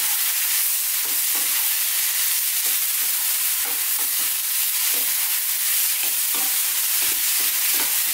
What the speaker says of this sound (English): Get all those spices mixed in there now. Going to continue frying again.